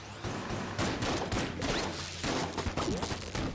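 The Shell gun firing in Enter the Gungeon, a loud burst of rapid, repeated shots rattling out in quick clusters with short gaps, close and continuous over game effects.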